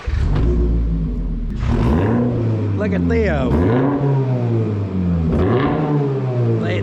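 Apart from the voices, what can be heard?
Subaru car engine revving with weed eater exhaust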